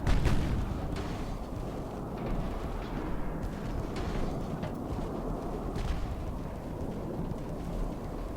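Naval gunfire in Ultimate Admiral: Dreadnoughts: a dense, continuous rumble of heavy guns with scattered sharper reports over roughly eight seconds, loud and steady with no clear pauses.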